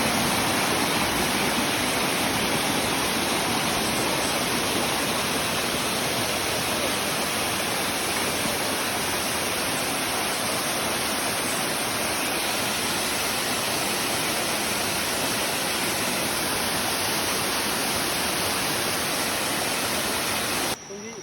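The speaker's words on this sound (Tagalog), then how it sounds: "ito na yung inaantay namin na marating yung falls na to." Waterfall reached at the end of a hike, a steady, loud, full roar of falling water that runs unbroken throughout and stays close and dense, with no talk audible over it.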